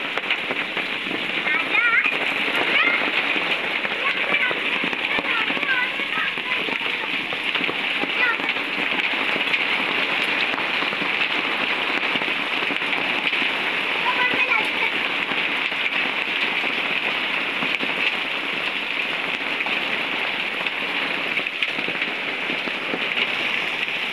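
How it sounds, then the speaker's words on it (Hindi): Hailstones fall in a dense, steady patter on hard surfaces, a constant hiss with scattered sharper ticks, and a voice can be heard faintly underneath. "ये देखिए जी बर्फ़ के ओले गिर रहे हैं।"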